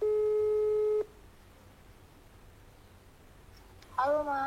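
A steady telephone tone sounds loudly for about a second, then a long stretch of low line hiss, before a voice comes on at the end as the call is answered.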